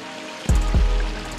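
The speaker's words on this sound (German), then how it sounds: "Das sind jetzt die Kaskaden hier." Waterfall cascades in the Vosges of Lorraine rush steadily with broadband noise, joined by two low thumps or bursts midway, a continuous close wash of falling water with no talk.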